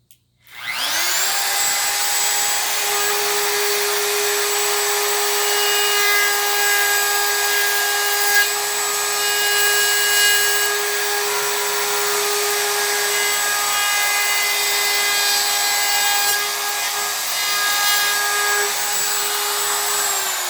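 A wooden board is cut with a power saw, a loud, steady high-pitched whine that starts abruptly and holds at an even level for about twenty seconds, close by.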